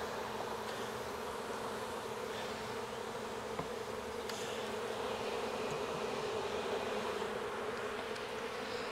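Honeybees from a captured swarm in Jacksonville, Florida, examined on a hive frame, drone in a dense, continuous close-up hum, steady and unbroken throughout with no voices.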